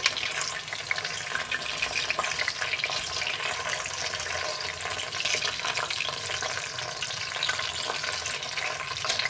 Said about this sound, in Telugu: ఇప్పుడు మిగతాయి కూడా ఫ్రై చేసుకుందామండి